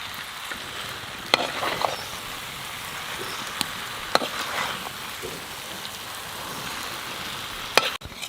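Mutton frying and being stirred in a pan with onion paste, fried onion paste, cashews and yogurt, a steady close sizzle with occasional sharp clicks of the spoon against the pot, no talk.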